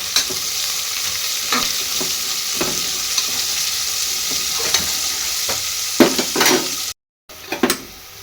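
Onions fry in a pan while a utensil stirs them at intervals, with steady sizzling and scraping strokes, brief bumps of the pan, and a momentary dropout near the end. Close and moderately loud, with no talking.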